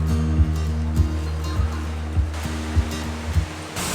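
Surf rolls onto Kep Beach in Cambodia, a continuous wash of waves under a low rhythmic thumping hum, with no voices present.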